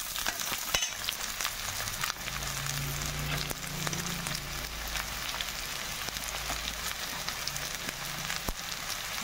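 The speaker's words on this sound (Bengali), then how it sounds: "এখন পেঁয়াজটা দিয়ে দিচ্ছি এর মধ্যে।" Onions sizzle and crackle steadily in hot oil in a pan, a continuous close frying hiss with occasional stirring clicks and no voices.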